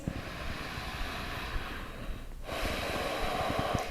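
Steady, deep yoga breathing through the nose, with noisy nasal inhales and exhales, close and continuous, with no talking.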